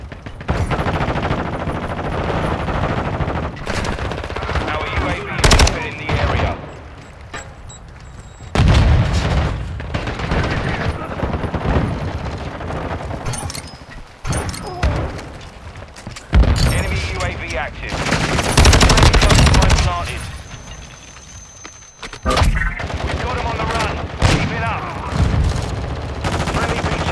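Heavy video-game gunfire from an HCR 10 weapon rattles in rapid bursts and fusillades, mixed with booms and explosions, loud and near throughout, with occasional voices over the combat.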